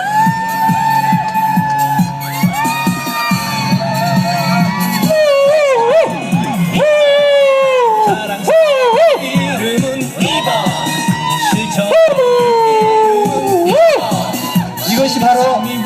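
A crowd of children and adults whoops a wavering 'Indian' war cry in rising and falling yelps along with a song at a campaign speech, loud, with shouting and cheering throughout.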